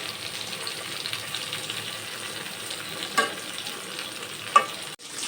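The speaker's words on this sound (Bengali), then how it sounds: "বেগুনটা আমি হালকা করে ভেজে নেব, বেশি একটা ভাজবো না।" Eggplant pieces fry lightly in oil in a pan for a Bengali pabda fish curry, a constant soft sizzle and hiss with a couple of faint stirring clinks near the end.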